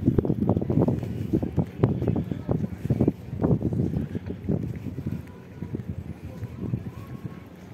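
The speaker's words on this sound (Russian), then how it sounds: "на набережной ветер сильнее" Strong gusting wind on a seaside embankment in Sochi buffets loudly in uneven bursts, with people talking underneath.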